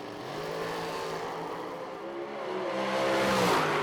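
Drag race cars launch side by side in a shootout at a summer drag racing event, engines roaring loud and steady with rising revs through the run, no talk.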